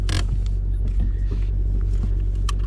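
Ford Mustang PP2 with a Corsa exhaust on a racetrack, a deep steady low rumble heard from inside the car with a few faint clicks and creaks over it, no talking.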